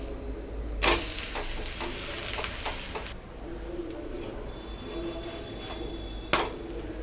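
A tapioca (cassava) dosa fries on a hot pan after being flipped, giving a steady close sizzle with a sharp scrape or thump near the start of the turn and another brief knock near the end.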